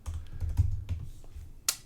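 Someone types their full name on a computer keyboard while filling out an online voter registration form, a short run of soft close keystrokes with a louder click near the end.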